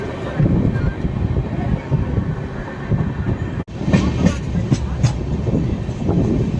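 Aboard the crowded Kondaveedu Express, a tri-weekly train from Yeshwantpur to Machilipatnam, a steady loud rumble of wheels on rails carries rhythmic clatter, with a brief sharp dropout midway and faint passenger voices underneath.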